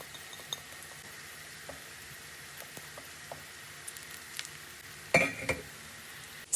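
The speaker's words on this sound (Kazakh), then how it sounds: "Сәбіз бен пиязымыздың үстіне томат пастасын салып, араластырып 1-2 минут қуырамыз." Carrots and onions fry with tomato paste in a pan for borscht, giving a soft steady sizzle with sparse crackles and a louder burst of stirring near the end.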